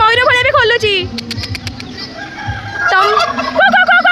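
A rooster crows with long rising and falling calls, followed by rapid clucking and a second crow, loud and close among mixed barnyard fowl, with a voice talking underneath.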